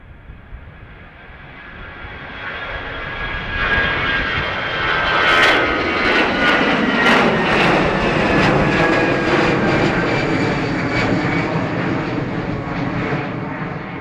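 An airplane takes off from runway 28 right at Dublin Airport, its engine roar swelling from a distant rumble to a steady, sustained drone as it passes, then easing slightly, heard alone.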